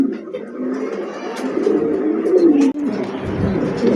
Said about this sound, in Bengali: দেখেন কবুতরটা